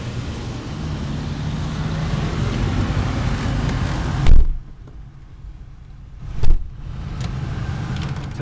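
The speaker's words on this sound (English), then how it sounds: "Let's take you guys out for a quick test run." A 2001 Ford Mustang GT with a 4.6 V8 and five-speed manual gearbox on a chilly test drive, with a loud steady engine and road roar inside the cabin that drops away twice, each gap marked by a thump.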